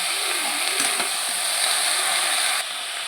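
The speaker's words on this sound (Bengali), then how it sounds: "দিয়ে আমি আবারও ভালো করে ভেজে নেব" Vegetables and bottle gourd leaves fry in a pan with a steady, bright sizzle that holds throughout, dipping slightly near the end, with faint clinks of stirring and no talk.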